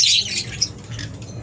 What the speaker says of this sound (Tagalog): dati pangarap natin ng mga ganitong ibon